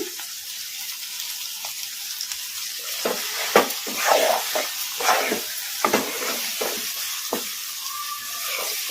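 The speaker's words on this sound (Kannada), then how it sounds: "ಈಗ ನಾನು ಸೈಡ್ ಡಿಶ್ ಆಗಿ ತಿನ್ನೋದಕ್ಕೆ ಒಂದು ಸ್ವಲ್ಪ ಹೈ ಫ್ಲೇಮ್ ಅಲ್ಲಿ ಇಟ್ಕೊಂಡು ಫ್ರೈ ಮಾಡ್ಕೊತೀನಿ" Chicken frying over a high flame as a side dish, a steady loud sizzle and hiss broken by repeated scraping stirs of the spatula against the pan, close up with no talking.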